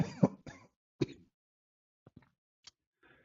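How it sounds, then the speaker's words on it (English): A man clears his throat and coughs in a few short, close bursts, the rough sounds separated by brief pauses with no talking. "Oh, excuse me, I'm coughing."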